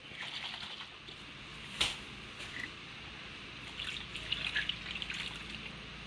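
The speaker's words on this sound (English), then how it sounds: "So I like to add a little bit of water and pour it in." Water trickles and drips into a pan of keto meatballs, faint and fairly close, with a sharp splash near the start and scattered light droplets over a low background hum.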